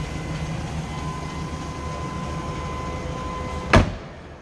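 A 1998 GMC Sierra 1500 regular cab 4x4 with a 5.7 Vortec V8 idles steadily on a stock exhaust, heard from the rear with a low even drone, broken near the end by a brief loud knock or thump.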